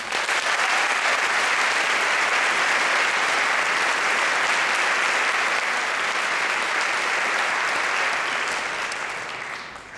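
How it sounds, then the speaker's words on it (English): An audience applauds an honor band in a dense, sustained roar of clapping that holds steady for several seconds and then begins to fade near the end. "Let's give them one more round of applause."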